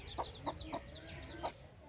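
Brooding hens cluck softly at a low-cost poultry farm, several short evenly spaced clucks under a faint, high, rhythmic chirping, all quiet and fairly distant.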